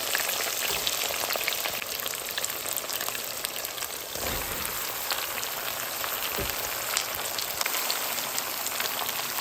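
Onions frying in oil with curry leaves, a dense, steady crackling sizzle like heavy rain that runs nonstop, with a couple of soft low thumps.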